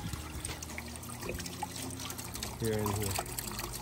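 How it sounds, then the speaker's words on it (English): Water trickling steadily through a homemade hydroponic vegetable garden system, a continuous running flow heard close up beneath a man's brief speech. "Water's running strong."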